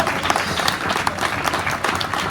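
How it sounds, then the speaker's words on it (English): Audience applause fills a wrestling banquet hall, a dense, steady wash of many hands clapping continuously throughout, fairly loud and close with no talk over it. "please, everybody give Tom another round of applause."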